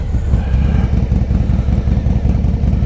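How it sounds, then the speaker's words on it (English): A 2021 Harley-Davidson Street Bob FXBBS with a Stage 2 Diablo Cobra 2-into-1 exhaust rumbles loud and close with a deep, throaty, pulsing exhaust note that holds steady throughout. "Stage 2 2-in-1 Diablo Cobra exhaust. It's a beautiful exhaust."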